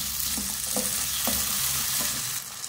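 Diced potatoes and onions sizzle and fry in a pan while being stirred, with a steady loud crackle broken by a few distinct scraping strokes of the spoon against the pan, no talking.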